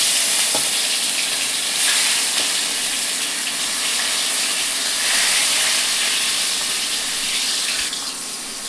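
Tomatoes frying in a pan for a Makar Sankranti bhaji, a steady bright hiss of sizzling with a few faint clinks, loud and close throughout.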